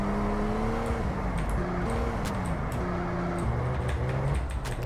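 A car in the SA:MP driving game accelerates through a drift, its engine droning steadily with pitch rising and dropping as the throttle is worked, loud and continuous with no talk.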